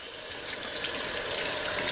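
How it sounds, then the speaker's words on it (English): Water pours steadily from a tap or container onto a ball, a continuous bright splashing hiss that runs unbroken and fairly loud, with no voices over it. "when I wet this ball"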